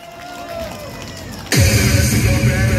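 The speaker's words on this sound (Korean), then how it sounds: "박수 한번 주세요!" A concert crowd bursts into loud clapping and cheering partway through, sustained and dense after a quieter stretch of murmuring at a trot singer's performance.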